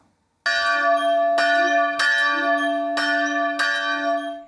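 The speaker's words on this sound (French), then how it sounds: "La cloche sonne ce dimanche matin à Mamoudzou, signe du début de la messe de Pâques." A church bell in Mamoudzou, Mayotte, rings out clearly on Easter Sunday morning, five resonant strikes at a slow, even pace, each tone ringing on into the next.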